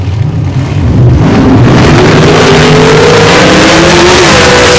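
A Top Dragster drag race car launches down the strip at Darlington Dragway during qualifying, its engine roaring loud and continuous with the pitch climbing steadily as it pulls away.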